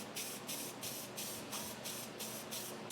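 SEM direct to metal paint sprays from a can in short repeated bursts, a crisp hiss pulsing about every third of a second, heard close over faint background noise.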